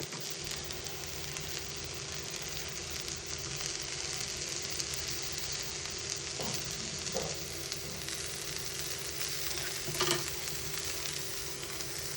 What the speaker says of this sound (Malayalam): ജിഞ്ചർ ഗാർലിക് പേസ്റ്റ് ഒരു തക്കാളി ഒക്കെ ഇട്ട് നന്നായിട്ട് ഇങ്ങനെ വഴറ്റണം